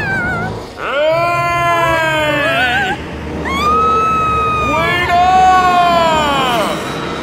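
A gigantic container truck's horrendous honking in a dark bus garage in a children's cartoon, long wavering blasts that swoop and repeat several times, loud and close, with voices around it.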